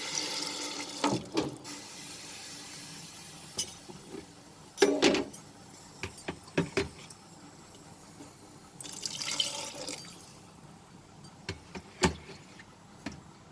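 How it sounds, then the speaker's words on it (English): Water from a tap runs and splashes into a pot of spiced black chickpeas (kala chana) being cooked over a medium flame, with intermittent pouring bursts and drips, fairly close and moderately loud, with no talking. "I am going to add water."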